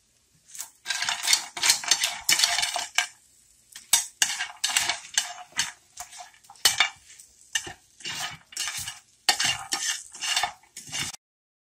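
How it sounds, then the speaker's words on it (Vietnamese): Chopsticks stir and toss ingredients in a bowl or pot for pho, producing brisk scraping and clicking bursts in an uneven rhythm, close and fairly quiet with short pauses between strokes. "Mình sẽ dùng đũa và trộn đều lên"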